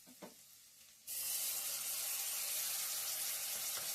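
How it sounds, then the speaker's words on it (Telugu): Masala and ginger-garlic paste for a mutton curry hit hot oil after a second of quiet, breaking into a loud, steady hiss and sizzle that continues close up until the end. "మసాలాని కొద్దిసేపు ఇలా మధ్యలో నూనెలో వేగనిద్దాం"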